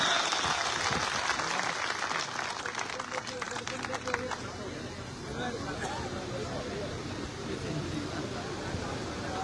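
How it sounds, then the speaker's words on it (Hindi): Loud, sustained applause and clapping from an audience at a BJP party office inauguration in Sardarshahar, a dense steady roar of hands with crowd babble mixed in throughout. "तालियां जोरदार बजनी चाहिए भाई, जोरदार तालियां।"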